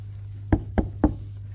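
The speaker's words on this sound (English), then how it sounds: "So knock on wood" Three sharp knocks on wood come in a quick, even sequence, close and distinct, over a low steady hum.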